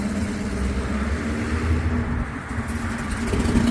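A Camaro driving off at an outdoor car show, its engine a steady low rumble that swells slightly, with ambient crowd noise and no clear speech.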